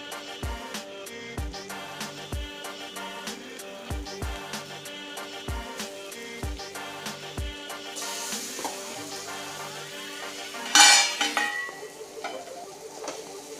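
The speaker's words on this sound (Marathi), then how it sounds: "आता हे आपण जे मसाल्यातले मच्छी आहेत ते फ्राय करायला टाकले" Marinated fish pieces dropped into spiced masala in a hot pan for a Maharashtrian fish thali and stirred: a string of soft, irregular knocks and scrapes over a low sizzle, with a brief louder hiss of frying near the end.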